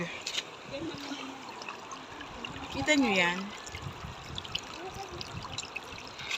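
River water trickles and pours steadily nearby while a person speaks briefly over it.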